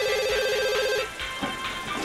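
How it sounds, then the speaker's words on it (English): A telephone rings in The Sims 2 game, with a repeating electronic ring tone over steady game background sound for about a second before it stops. "of course the phone would ring"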